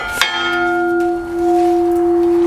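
A metal replica of Thor's Stormbreaker axe from Avengers: Endgame is struck once and rings like a bell, a loud clear tone that sustains and slowly fades over a couple of seconds.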